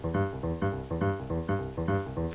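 With swing raised to 64%, an Akai MPK Mini mk2 arpeggio plays repeating synth notes in an uneven, skipping long-short pulse, steady and prominent throughout, with nobody speaking.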